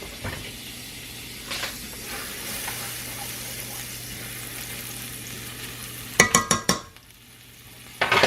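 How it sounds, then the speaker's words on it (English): Butter sizzles and fries steadily in a pan while cooking steak fettuccine, a constant close hiss, with a brief burst of utensil clatter near the end. "We're going to add a couple more tablespoons of butter to our pan."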